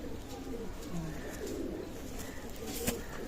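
Pigeons coo softly at a pigeon loft in Khulna, Bangladesh, their low repeated calls rising and falling while a voice is faintly heard nearby.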